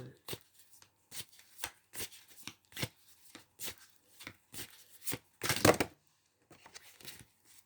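An aromatic oracle card deck is shuffled up close in quick, crisp bursts that come in an irregular rhythm, with a louder, longer flurry near the end.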